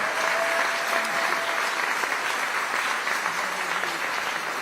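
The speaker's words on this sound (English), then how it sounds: "So let's give another round of applause for West Aurora School District 129." Steady audience applause fills a large hall during a 2026 State of the City address, dense continuous clapping at even loudness throughout with a brief faint whistle-like tone early on.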